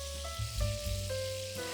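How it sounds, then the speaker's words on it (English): Beef brisket pieces searing in a single layer in hot oil, a steady low crackling sizzle with fine spitting, close and fairly quiet, running continuously with a faint hum underneath and no talking. "They've had a couple of minutes each side, sizzling away."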